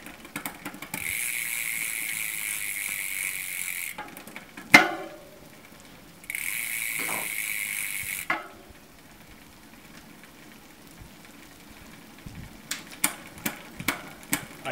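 Bicycle drivetrain with a Shimano 10-speed rear derailleur driven by an SRAM 9-speed shifter, giving steady ratcheting chain-and-freewheel clicking that breaks off in pauses, then a run of sharp separate shift clicks near the end, with no talking.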